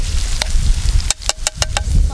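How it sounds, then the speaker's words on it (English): Green beans, potatoes and yellow, red and green peppers fry in a pan, a steady close sizzle broken by a quick series of sharp clicks or scrapes. "So now we are frying our green beans, potatoes, mixed with the yellow"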